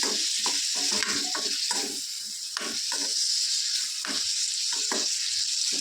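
Tomatoes fry in oil in a pan for a hotel-style matar kurma. A loud, continuous hiss of sizzling oil runs throughout, broken by repeated scraping stir strokes at an irregular rhythm, and no one speaks.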